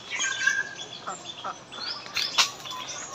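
Ducks at a village pond: scattered quacks and chirpy bird calls mixed over an open outdoor background, with faint voices at moments.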